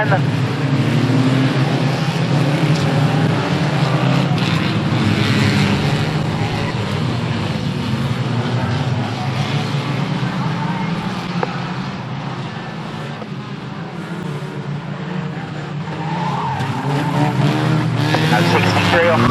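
Street banger stock cars racing at Standlake, a loud roaring pack of engines with revving and tyre scrubbing as cars slide around a corner, continuous and close, with a commentator talking throughout.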